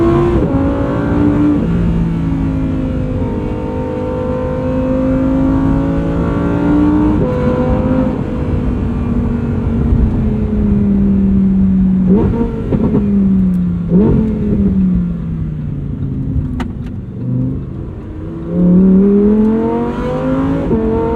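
A 2023 Lamborghini Huracan Tecnica's engine revs loudly and continuously while being driven, its pitch rising and falling with shifts and throttle changes, with a few sharp blips near the end.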